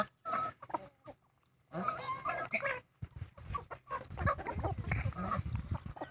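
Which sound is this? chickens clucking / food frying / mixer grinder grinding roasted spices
chickens clucking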